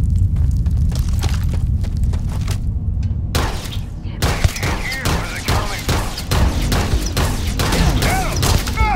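Rapid bursts of gunfire in the video game Starfield crackle over a constant low rumble, with a short lull before sharp shots and metallic clinks resume in quick succession.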